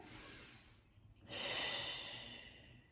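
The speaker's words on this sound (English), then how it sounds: "Take a deep breath here." A slow, deep breath is taken during a Pilates stretch: a quiet exhale fades out, followed by a soft, airy inhale that swells and gently tapers off.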